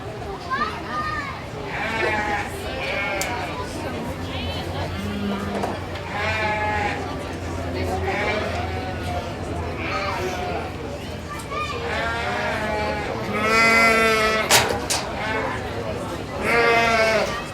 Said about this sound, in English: This is Class 4 yearling ewes.